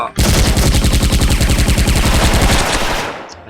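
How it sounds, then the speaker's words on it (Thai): Rapid automatic gunfire in the online shooter Special Force: a loud, unbroken stream of shots lasting about three seconds, then cutting off, with no talking. "เสียงปืนดังตกใจ หูแทบแตก"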